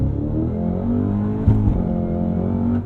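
Cadillac CT5 Blackwing sedan doing a manual-transmission launch in first gear, engine held at high revs then surging hard under full throttle, a loud, close, continuous roar with a sharp rise in pitch partway through.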